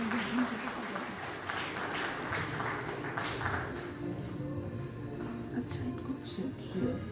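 Applause for an award recipient named Karan at a railway week award ceremony. It plays as a steady wash of clapping from a hall audience, moderately quiet, with some talk mixed in beneath it.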